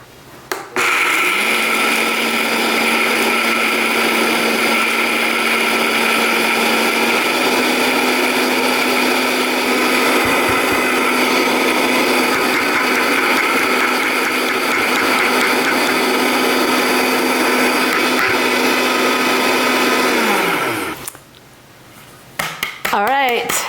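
A blender whirs loudly at a steady high pitch while pulverizing freeze-dried green beans, carrots and corn into powder. The motor runs for about twenty seconds, then winds down and stops near the end.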